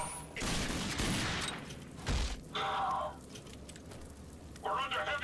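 Gunfire bursts in the RAGE shooter game, a loud sustained volley near the start followed by a sharp blast and two shorter bursts later, with a voice talking over parts of it.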